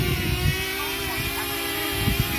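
DJI Flip drone motors spinning up, a steady loud whirring drone with a constant high tone and continuous wind-like rush, close to the microphone throughout.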